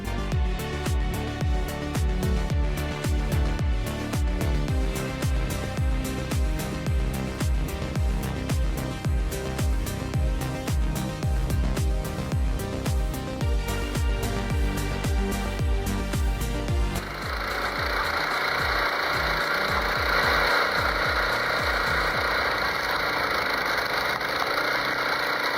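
Rabot XY Log 410 PTO-driven log splitter, cutting logs up to 15.7 inches thick and splitting with 13 tons of hydraulic pressure, runs with a steady mechanical engine drone and rhythmic clanking, then a smoother, continuous hydraulic whine takes over near the end.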